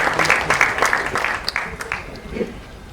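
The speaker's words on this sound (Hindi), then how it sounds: "जोरदार तालियां प्लीज" A crowd at the Raid 2 trailer launch event for a Hindi film claps briskly for a few seconds, with voices and cheers mixed into the applause.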